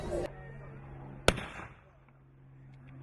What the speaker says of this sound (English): Now that's the shotgun.